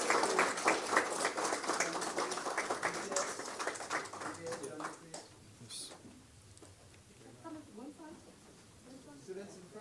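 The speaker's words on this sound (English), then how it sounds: "Let us give them a round of applause" Applause for the special awardees at the S.E.A. 2026 ceremony, a loud burst of clapping for the first half that thins and fades, with talk going on beneath it.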